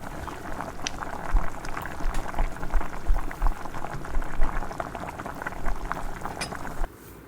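Macaroni pasta boiling in a pot of water, a close bubbling churn with irregular pops and gurgles that swells and eases, stopping abruptly near the end.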